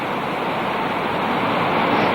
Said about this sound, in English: This water pouring from a sewage treatment plant in a large American city